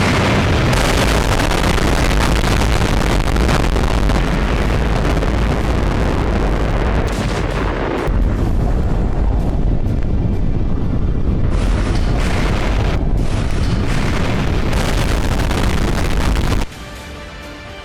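The Tsar Bomba Soviet hydrogen bomb test explodes in a huge, sustained roaring rumble that stays loud and dense for many seconds before dropping off sharply into a quieter tail.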